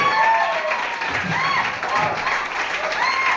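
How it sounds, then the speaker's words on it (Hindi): Enthusiastic applause from attendees at a business training meeting, a steady mid-level wash of clapping with voices calling out over it throughout. "तो एक जोश वाली ताली तो आपकी बनती है"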